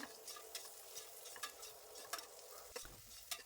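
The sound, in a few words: onions and mint frying in oil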